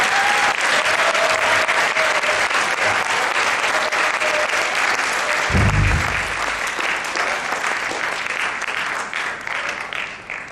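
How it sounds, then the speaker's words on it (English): An audience at a schools debating championship grand final gives sustained, dense applause that fills the hall at close range throughout and tapers slightly toward the end. "Please give them a round of applause."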